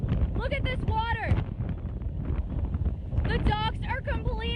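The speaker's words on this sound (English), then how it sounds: "It is so windy out here." Strong Hurricane Michael wind roars steadily across a flooded Panama City marina with washed-up boats, a loud continuous rumble and buffeting on the microphone, with people talking over it throughout.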